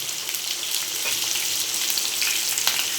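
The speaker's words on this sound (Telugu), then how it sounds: "Now let's add the onions and the green chillies. Fry them till they turn golden brown." Onions and green chillies sizzle steadily in hot oil, cooked for chilli chapati (kothu chapati). The frying hiss is close, dense and continuous, with small crackles and pops throughout and no voices.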